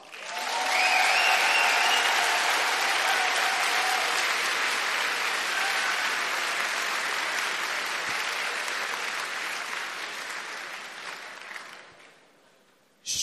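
Long, full audience applause in a lecture hall at TU Berlin swells quickly to a dense roar of clapping with some cheers, holds for about ten seconds, then fades out near the end.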